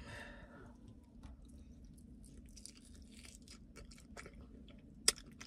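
Close, quiet chewing and crunching of Barro's mild chicken wings, with irregular wet bites and mastication noises and one sharp crunch near the end.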